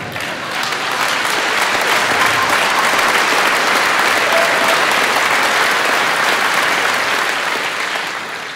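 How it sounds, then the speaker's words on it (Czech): A stand-up comedy audience bursts into sustained, loud applause, a dense wash of clapping that holds steady for several seconds before tapering slightly at the end. "zatleskali jste sami sobě"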